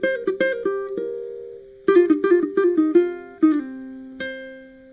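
A ukulele picks out a blues scale lick, clear plucked notes in quick runs with short pauses and slides, played solo with no talking.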